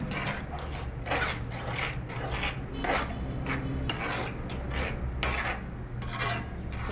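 Creamy spaghetti stirred in a pan, giving a steady run of rhythmic scraping, rubbing strokes that stay close and fairly loud, with no talking.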